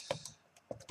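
Keys clack on a computer keyboard while typing a terminal command, a few quick, close taps in two small clusters with a pause between.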